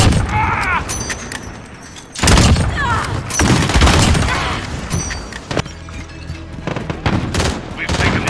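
HDR sniper rifle in Call of Duty: Modern Warfare fires loud, booming shots amid heavy battlefield gunfire, with brief game voice callouts between blasts.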